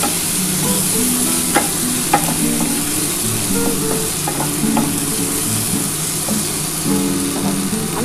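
Snail curry masala with tomato frying and being stirred in a pan, a steady close sizzle broken by scraping spatula strokes and clinks throughout.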